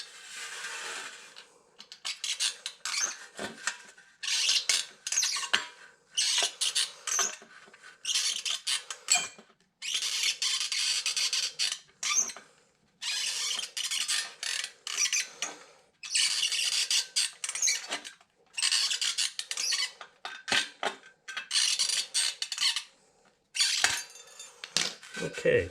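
Trimming material in a no-till vegetable garden produces repeated bursts of scraping and cutting, close and fairly loud, separated by short quiet gaps.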